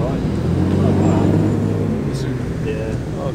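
Cars rumble steadily as they arrive at the Cars & Caffeine car meet at Combermere in February, with a continuous nearby engine drone under voices.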